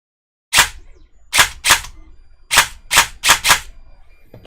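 A repaired battery-powered motorized device firing in sharp, loud snaps, seven shots in short uneven bursts, close by with no talk.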